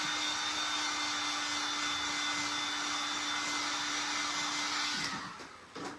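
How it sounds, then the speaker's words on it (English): A hair dryer blows steadily on wet paint on a bottle, a loud constant whirring hum that cuts off near the end with a few faint handling knocks. "But first of all, I better dry this to make sure it's good and dry"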